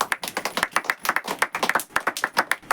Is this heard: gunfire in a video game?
no